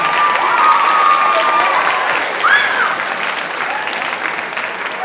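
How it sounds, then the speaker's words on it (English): A concert audience applauds the middle school jazz band at a high school spring concert. The clapping is sustained and dense, fairly close, and eases slightly toward the end. "can we have one more round of applause for Mr. Gia and the middle school jazz band?"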